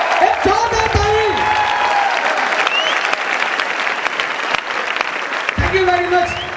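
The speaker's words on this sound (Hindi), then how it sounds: "एक जोरदार ताली बजनी चाहिए, एक जोरदार ताली।" Loud, dense clapping from a large audience fills an indoor stadium, Talkatora Stadium in New Delhi, without letup, while an amplified voice speaks over it at the start and again near the end.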